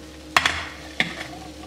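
Beef and onions brown in a pot under a low sizzle, punctuated by two sharp clanks of a spoon scraping against the pot bottom, then quieter stirring.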